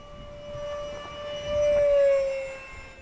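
A timer alarm sounds at a radio-controlled jet flying field, a steady, thin electronic tone that swells louder for about a second over faint background hiss.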